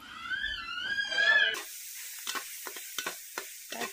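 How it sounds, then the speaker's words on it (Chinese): Small river fish fry in a pan in a home kitchen. A faint sizzle and a few soft scraping clicks follow a sharp cut from an earlier tonal passage, close but low in level. "煎好了，这个小鱼可以出锅"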